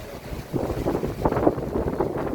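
Gusty wind buffets the microphone in uneven rumbling bursts, loud and close, with no voices.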